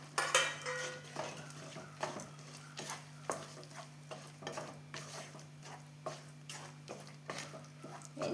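Peanuts and cashews tipped into a cooking mixture for a homemade snack, with repeated scraping and stirring taps of a spoon against a metal pan over a low steady hum, no talking.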